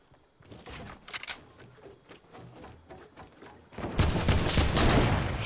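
Sniper and gunfire shots ring out in a Fortnite-style battle near Tilted, a string of sharp cracks building into a loud, dense barrage of rapid fire toward the end.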